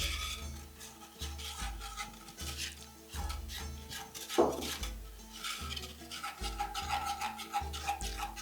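A spoon scrapes and rubs around a bowl while the liquid base for Belchishka proja, a traditional cornbread, is stirred in steady circular strokes, close and fairly quiet, with rhythmic music playing underneath.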